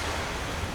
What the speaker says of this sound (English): That's a waterfall!